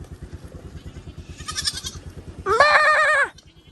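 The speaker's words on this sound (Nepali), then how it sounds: "भेडाको बच्चा नै गइरहेको छ त।" A lamb near the Kalinchowk Bhagwati temple gives a pair of short, close bleats, the second louder and wavering, over a rapid rhythmic thumping in the background.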